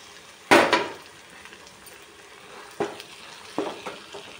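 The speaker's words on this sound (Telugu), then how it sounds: "ఇంకా దీనిలో అన్నం వేసుకుందాం." Cooked rice is dropped into a pan of frying tomato mixture and stirred, making a sharp scraping clatter followed by a few more stirring scrapes over a faint sizzle, close by with no voice.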